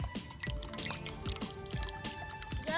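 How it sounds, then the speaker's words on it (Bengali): Water draining off boiled flowers being prepared for homemade food colouring, heard as a steady run of drips and trickling splashes close by, with soft squishy handling noises and no talk. "এবারে আমি জলটাকে ঝরে নেব"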